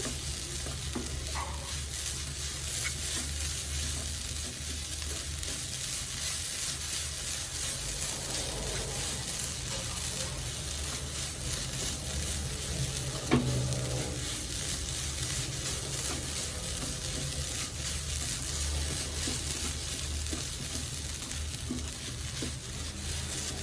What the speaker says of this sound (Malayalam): നന്നായിട്ട് പൊരിച്ചെടുക്കാം. ഈർപ്പെല്ലാം പോണം.